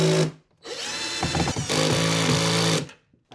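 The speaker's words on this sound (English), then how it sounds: "I let the screwdriver run a little bit to sink in the tightness of the two pieces" An electric screwdriver drives screws while an IKEA Eskilstuna two-seat sofa is being assembled, whirring loudly and close in two long bursts with a short stop between them, the motor pitch holding steady and then cutting off.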